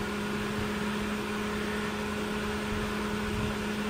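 Perkins 4.108 diesel generator set engine idling steadily after a cold start, a constant close mechanical drone with a steady hum and no variation in speed.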